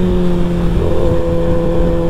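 A Kawasaki ZX6R motorcycle with a loud exhaust runs between about 4,000 and 5,000 RPM, giving a close, steady engine drone with a faint, uneven sputter woven through it.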